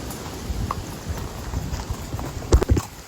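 Horse hooves clip-clopping on a hill-station path at Matheran, faint steady steps under rain-and-wind ambience that swell into a few louder, closer hoof strikes near the end.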